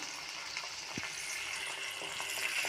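Prawns frying with salt in a pan, a steady close sizzle running throughout with one brief clatter partway, no voices.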